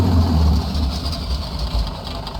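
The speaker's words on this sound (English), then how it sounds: "we'll cut the engine, so bringing the mixture here back to the idle cut-off position" A P-51D Mustang's piston engine in a flight simulator, mixture pulled to idle cut-off, runs down from a loud low rumble that steadily fades and settles over a couple of seconds.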